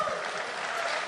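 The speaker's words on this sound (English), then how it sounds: "Give him a clap." Clapping from a crowd celebrating a team's win fills a brief, even stretch, steady and fairly close.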